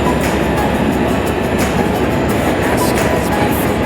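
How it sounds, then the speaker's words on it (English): A train rolls past close by, a loud continuous rumble with clattering wheels and metallic rattling that fills the whole stretch, heard from near a sailboat. "There's a train coming."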